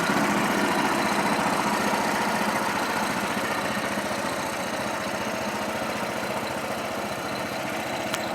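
A vehicle engine runs steadily while reversing slowly in low gear, a constant close rumble with a faint knocking texture throughout.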